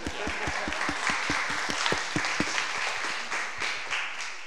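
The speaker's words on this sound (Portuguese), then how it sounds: "Uma salva de palmas para os nossos irmãos." A church congregation claps at a weekly worship service, with a rhythmic, evenly spaced unison beat over a wash of scattered clapping, moderately loud and steady throughout.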